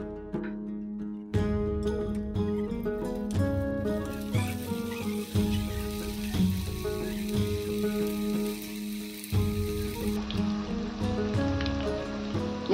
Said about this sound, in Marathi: या प्रकारे आपण सर्व भजी तळून घेऊया.